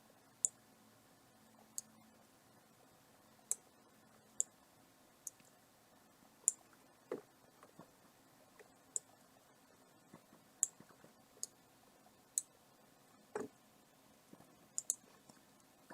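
A computer mouse clicks sharply and irregularly, around fifteen crisp single clicks spread over the stretch, faint and close against a quiet room hum, with no talking.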